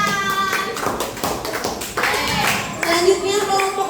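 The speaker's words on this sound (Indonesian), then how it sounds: "Tepuk tangan." Schoolchildren in a fifth-grade elementary classroom clap together after a group presentation, the claps fast and busy with children's voices mixed in.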